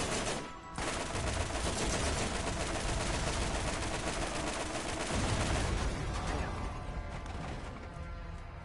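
Rapid, dense machine gun fire in the Borderlands shooter game, a loud continuous burst with crashing impacts that runs almost the full length before tapering off near the end.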